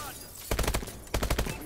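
Two short bursts of rapid automatic gunfire in a video game team deathmatch, each a quick run of sharp shots under a quieter background, the second burst arriving about half a second after the first ends.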